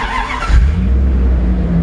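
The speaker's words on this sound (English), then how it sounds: "Great sounding engine." A 1969 Dodge D100 truck engine and exhaust driving, close and loud: a deep, steady rumble with a brief rev swelling just after the start before settling back to an even drone.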